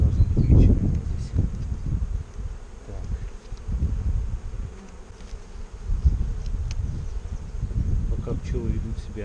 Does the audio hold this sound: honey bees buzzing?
yes